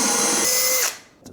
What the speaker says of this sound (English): It will actually drill that exactly where you want it.